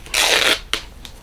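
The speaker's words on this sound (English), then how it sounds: "I'm going to rip it." Fabric torn by hand while sewing gingerbread decor: a close, crisp half-second rip followed by a few short tearing snaps.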